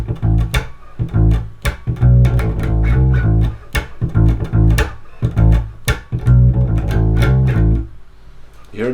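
A bass guitar grooves through a rhythmic phrase built on the A harmonic minor scale, loud and continuous with punchy, repeated plucked notes and no talking.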